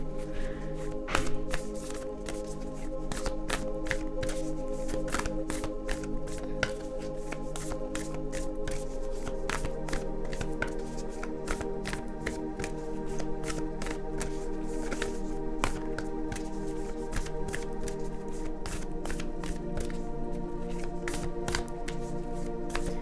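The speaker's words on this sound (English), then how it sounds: "I'm gonna pull some final cards from this Oracle deck" Oracle cards being shuffled by hand for a card-reading session, a continuous crisp riffling and tapping that runs steadily throughout at close range, with no talk over it.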